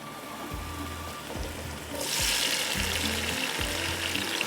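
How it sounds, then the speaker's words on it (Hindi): Masala and tomatoes fry in a pan for dal tarka, a steady close sizzle that swells louder and brighter midway, with soft stirring scrapes underneath. "बस इसको करते हैं अच्छी तरह से इसकी भुनाई"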